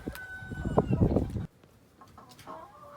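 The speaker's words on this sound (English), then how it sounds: "Got a few chickens hanging out in here." Farm chickens, hens and roosters together in a shaded pen, clucking and calling loudly and close for about a second and a half, then fainter scattered clucks in a quieter yard.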